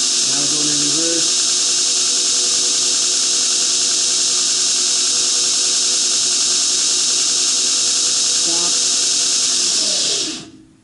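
A Heretic H2 2x72 belt grinder with a 2 HP motor on 110 volts runs in reverse, a loud steady high-pitched whine that holds evenly for about ten seconds before cutting off and winding down.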